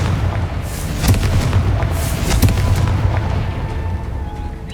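Confringo fire spell explosions in Hogwarts Legacy: two sharp booming blasts over a constant low rumble of game ambience, with no voices.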